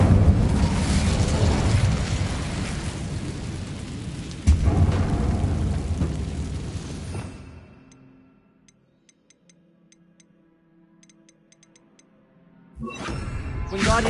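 A fire spell cast in Hogwarts Legacy on PS5 erupts as a loud, dense whooshing roar lasting several seconds. It fades to near silence with faint ticking, then a second burst of flame surges back in.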